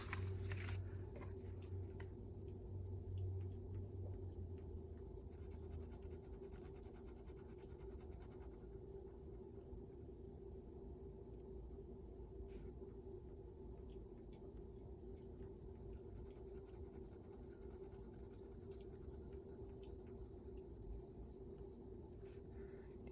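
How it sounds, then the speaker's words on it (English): Crickets chirp at night indoors in a quiet room, a steady faint high trill that continues throughout with light paper rustling and scratching nearby. "You guys hear the crickets?"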